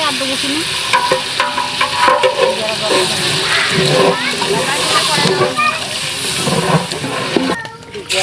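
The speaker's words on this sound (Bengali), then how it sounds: "মাংসটা কষানো হয়ে গেছে ওটা জল দিয়ে দিলাম" Browned meat in a pan sizzles and bubbles steadily after water is poured in, with stirring scrapes and sloshing throughout and a person talking over it.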